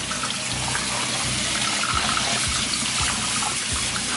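Tripe, honeycomb beef stomach for menudo, washed under a running tap: a continuous close rush of water with splashing and rhythmic low thumps as the meat is worked by hand, no speech.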